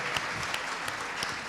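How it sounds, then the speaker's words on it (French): An audience claps steadily through a welcome for the mayor and metropolitan president at the VinoBravo 2015 wine event, a dense wash of hand claps with a few sharper bursts standing out. "On peut les applaudir."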